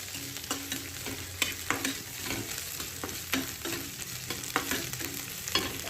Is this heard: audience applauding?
no